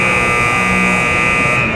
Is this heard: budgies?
no